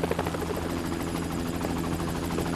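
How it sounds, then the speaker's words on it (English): A helicopter in a shooting video game, a loud, close, continuous rotor chop with a rapid pulsing beat and a deep engine drone, with no talking. "We called in the chopper."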